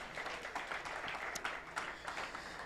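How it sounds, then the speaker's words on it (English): An audience at a tech challenge awards ceremony in Nairobi claps for the contestants, a fairly quiet, steady patter of applause in a large room with a few sharper claps standing out. "A round of applause for them."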